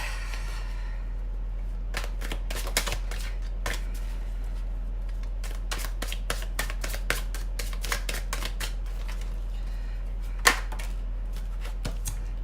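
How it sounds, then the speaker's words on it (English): Tarot cards being cut and shuffled, giving a run of crisp, rapid flicking riffles and taps in quick bursts, close and fairly quiet, with one sharper snap near the end and no talking. "let's give the deck a cut"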